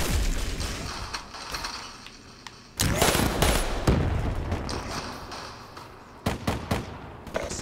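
Video game M16 rifle fire comes in loud, dense bursts, a heavy volley starting partway through and another cluster of sharp shots toward the end, mixed with game clatter.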